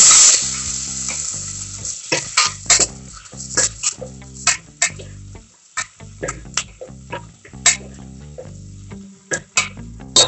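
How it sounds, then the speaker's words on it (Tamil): Chopped onion sautéing in a pan for pumpkin sambar: a loud, crackling sizzle with sharp spatula scrapes and taps recurring irregularly, close up, with no talk. "கட் பண்ணி வச்சிருக்கிற ஆனியன் ஆட் பண்ணிக்கலாம். இதை வதக்கி விட்டுறலாம்."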